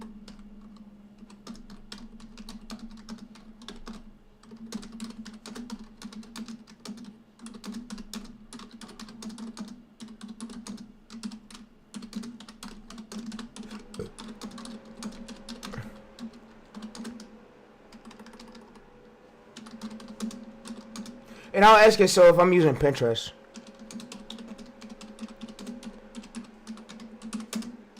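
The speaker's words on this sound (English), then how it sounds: "I'm just typing so quick." Quick typing on a computer keyboard, soft clicks running steadily for the full stretch under a voice, with a brief louder burst of other noise near the end.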